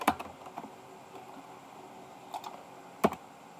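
Soft, scattered clicks from a computer keyboard as Dart code is typed. Short bursts of key presses are separated by pauses, with two sharper taps standing out in a quiet room.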